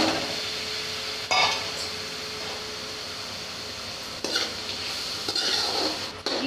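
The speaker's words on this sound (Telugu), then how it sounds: "ఇలా అల్లం వెల్లుల్లి ముద్ద ఫ్రై అయ్యాక ఇందులో సన్నగా తరిగిన టమాటా ముక్కలు వేసి కలపాలి" Chopped tomatoes stirred into ginger-garlic paste frying in a pan for butter pav bhaji, with a steady hiss and several scraping stirs of the spoon, close and clear with no voices.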